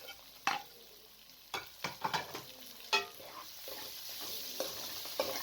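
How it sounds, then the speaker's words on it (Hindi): Keema with spices, capsicum and potatoes fries in a pot, with a soft steady sizzle broken by close, irregular scrapes and clinks as a spoon stirs, and no talking. "और मसाले डालकर भी तकरीबन 1 मिनट तक आपने अच्छे तरीके से फ्राई कर लेने हैं"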